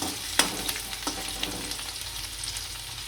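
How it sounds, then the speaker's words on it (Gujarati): Garlic and green chilies sizzle in hot oil in a pan while being stirred for a spicy street-style Maggi, a steady close frying hiss broken by sharp clicks and scrapes of the spoon. "આની અંદર લસણ નાખીશું, લીલા મરચાં નાખીશું અને આપણે હલાવી નાખીશું।"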